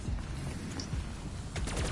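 AN-94 rifle gunfire in a first-person video game, rapid bursts of sharp pops over a steady layer of battle noise, with a brighter burst of shots near the end.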